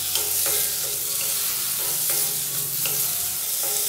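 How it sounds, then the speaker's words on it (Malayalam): Chopped tomato sizzles in hot oil in a pan for a chilli chutney, with a spoon scraping and stirring at a steady rhythm of repeated strokes, loud and close, with no voices. "ഇപ്പോൾ നമ്മുടെ തക്കാളിയും നല്ല രീതിയിൽ തന്നെ ഒന്ന് ചൂടായിട്ടുണ്ട്"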